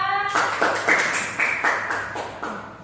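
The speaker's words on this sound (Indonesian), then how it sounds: "tepuk tangan buat Mbak Aura" A small group in a classroom claps in unison, about eight crisp, evenly spaced claps following a brief tone at the start.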